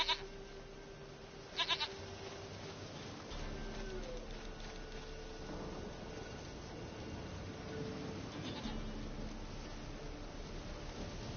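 Short bleats from a goat in The Witcher 3: Wild Hunt, heard faintly a few times over quiet game ambience, with brief clicky bursts between them.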